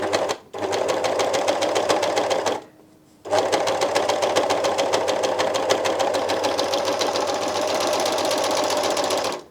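An Elna 792D serger runs steadily and loudly, gathering fabric with its differential feed. It stops briefly after about two seconds, then resumes its fast mechanical whir and continues to the end.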